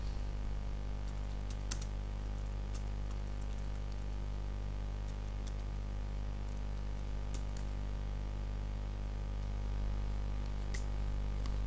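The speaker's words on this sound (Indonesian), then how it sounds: "lalu backupnya itu kita ketik" Steady computer keyboard typing as a backup command is entered as superuser, scattered soft key clicks over a constant low hum, fairly faint and without speech.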